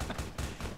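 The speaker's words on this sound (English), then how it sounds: "I hear gunfire." Gunfire in Fallout New Vegas comes as a quick string of heavy, evenly spaced bursts, loud and close, with no voices.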